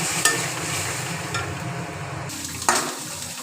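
A spoon stirs and scrapes spice paste in a pan after water from rinsing the grinding bowl is added, a soft steady sizzle with a few sharp clinks of metal on the pan, no talking.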